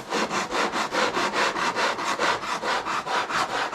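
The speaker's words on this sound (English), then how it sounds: "So, really fresh new sandpaper," A foam RC airplane wing is sanded with fresh 80-grit sandpaper in quick, even back-and-forth strokes, a close, loud scratchy rasp repeating about four times a second.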